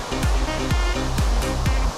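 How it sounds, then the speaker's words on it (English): Kasmal waterfall pouring down, a steady loud rush of falling water with a few low thumps mixed in, close by and alone. "It's literally a waterfall."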